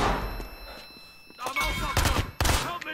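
A frag grenade explosion in the video game Battlefield Hardline, heard as sharp, loud blasts near the end of a short stretch of gunfire-like thuds, with heavy low rumble.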